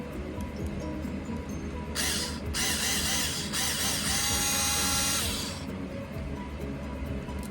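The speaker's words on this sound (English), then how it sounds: "So I have my drill right here," A cordless hand drill drives Phillips head screws into an RC car's aluminum caster blocks, giving two close, loud whirring bursts, a short one followed by a longer one, over a quiet background.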